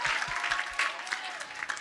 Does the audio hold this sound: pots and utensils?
no